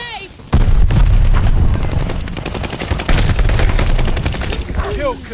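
Dense gunfire and a blast crackle through a Call of Duty: Vanguard firefight after a stun grenade is thrown: rapid loud bursts with a heavy boom near the start and sustained shooting, with voices over the action.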